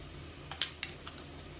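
For Thalappakatti chicken biryani, a spoon stirs ground biryani masala into ginger and garlic sautéed in a pan. It gives four quick, light metallic clinks and scrapes, close and faint, with no voices.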